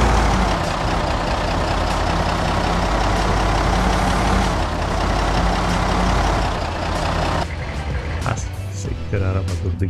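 A car engine in the Project Zomboid video game runs loud and steady with a heavy rumble, then cuts out abruptly near the end as it stalls, leaving scattered quieter noises.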